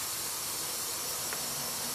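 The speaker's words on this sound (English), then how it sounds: "And I'm spraying downwards now, so that all the hairspray is hitting the top." Hairspray is sprayed onto a model tree in one steady, continuous hiss lasting the whole moment, close and even in level, with no talking.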